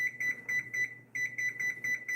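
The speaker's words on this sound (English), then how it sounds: "I'm going to set my timer for my chicken" A kitchen timer set for cooking chicken gives rapid high electronic beeps in short bursts, a brief pause midway, then another run of beeps, close and clear.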